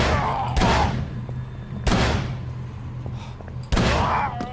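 Three sharp, loud gunshots in the video game Call of Cthulhu: Dark Corners of the Earth ring out at irregular intervals, fired through a door, each one followed by a long, echoing decay.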